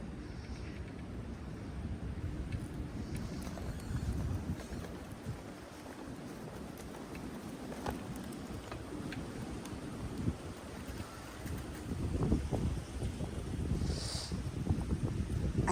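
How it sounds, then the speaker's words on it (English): Gusty wind buffets the microphone with a steady low roar that rises and falls, loudest near the end, with no other clear sounds. "And it's windy too this morning."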